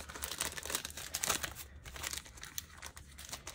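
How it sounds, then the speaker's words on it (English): Paper card packaging being torn and crinkled up close, a dense run of crackling rips and rustles lasting several seconds with no talking. "Oh, I just tore it."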